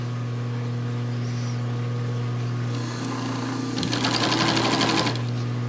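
A Pfaff sewing machine driven by a clutch motor sews long stitches, its fast rattling needle bursting in loud and close over the motor's steady hum.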